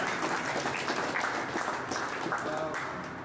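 Steady, dense applause from a crowd gathered to honor the Macho Player of the Match at a U Mumba kabaddi event, full and sustained throughout.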